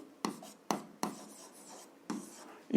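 A pen scratches on paper during an algebra exercise, a handful of short, quiet strokes spaced irregularly, close by with no voices.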